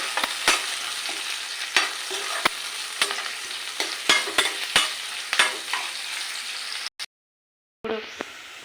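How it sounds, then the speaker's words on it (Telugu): Green chillies, onion and curry leaves fry in a pan with a steady close sizzle, broken by repeated sharp scrapes and taps of a stirring spoon, then a brief full silence before the frying resumes; no talking. "ఇప్పుడు కరివేపాకు అయితే పోసుకున్నాను. కొద్దిగా వేయించుకున్నాను."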